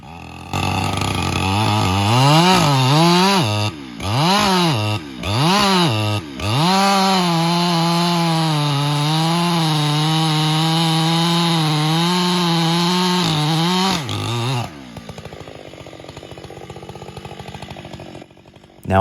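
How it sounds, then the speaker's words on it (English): A chainsaw cuts the face cut into a standing tree during felling, engine revving hard and steady with a few brief dips near the start, then dropping to a sputtering idle near the end; loud and close, no talk. "I'm going to bore the chainsaw in right behind the face cut"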